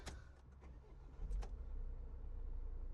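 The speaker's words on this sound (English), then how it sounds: "you don't need to press the clutch or the brake or anything to start the engine on this van" A Renault Trafic van's engine turns over and catches, a brief cranking followed by a steady low idle rumble, heard from inside the cab with a couple of small clicks beforehand.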